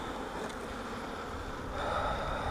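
Bees swarm around an opened beehive, producing a steady, close, moderately loud buzzing hum that swells slightly toward the end.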